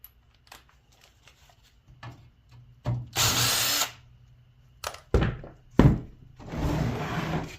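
Power drill bursts while an aluminum coil is removed from an old dehumidifier during scrapping: several short whirring runs and clunks of metal parts, separated by pauses, fairly close and loud.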